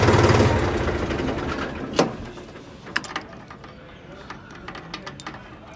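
A Mahindra 275 DI XP Plus tractor's loud engine rumble dies away within the first couple of seconds as it shuts off, followed by a clunk and scattered mechanical clicks and taps in near quiet.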